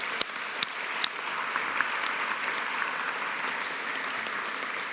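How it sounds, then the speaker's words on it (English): Graduation ceremony audience applauding, a broad steady roar of many hands with a few sharp nearby claps standing out, continuous for several seconds, no talk. "So maybe a round of applause for all of them"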